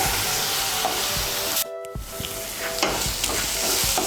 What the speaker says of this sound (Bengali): এখন ওই মশলাটাকে একটু ভালো করে কষিয়ে নেব।